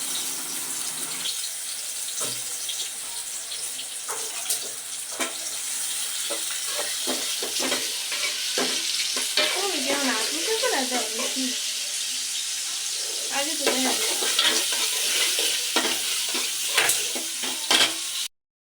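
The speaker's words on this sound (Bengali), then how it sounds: "এখন তেল দিয়ে দিল, এখন পেঁয়াজটা ভাজা হবে।" Onion frying in oil in a pot gives a continuous sizzle while a utensil repeatedly scrapes and knocks as it is stirred, close by, with brief bits of voice and clatter mixed in.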